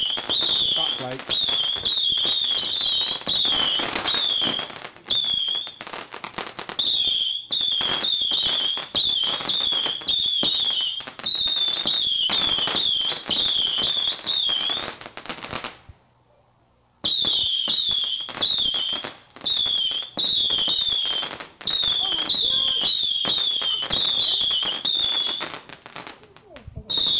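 Screaming demon fireworks from the 1990s shriek in dense, overlapping high-pitched whistles with crackling bursts. The volley runs almost continuously, pauses briefly, then resumes just as loud.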